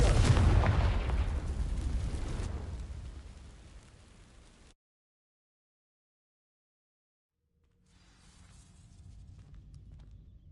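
A Confringo fire spell from Hogwarts Legacy bursts against dry vines with a loud roaring crackle that fades over several seconds, followed by silence and then a faint low rumble.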